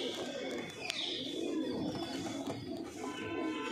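Pigeons coo softly and repeatedly nearby, low throaty calls overlapping in a loose rhythm, with someone talking in the background.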